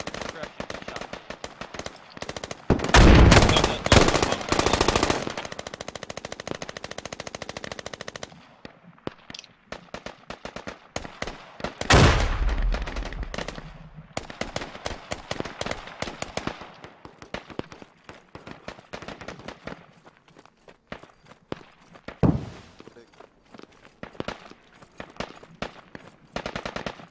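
Gunfire in the military shooter game Squad: a burst of rapid automatic fire, then scattered single and short volleys, some near and loud, others distant and faint, over a quieter stretch of ambient noise.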